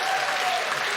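Audience at a stand-up comedy show breaking into sustained applause, a dense, even wash of clapping with no break, loud and close.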